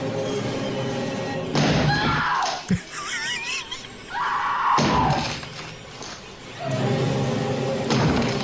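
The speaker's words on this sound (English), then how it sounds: "he's taking the axe to the bathroom door" Heavy thuds and a crack of an axe striking a wooden bathroom door in a horror film scene, loud and separated by pauses, with a woman's screaming and other film sound between the blows.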